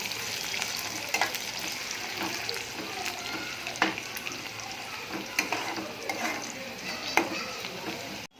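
Onions sizzling in a pan as they fry toward golden for a Sangli-style chicken curry, a steady broadband crackle punctuated by scraping stir strokes, close and alone without talk.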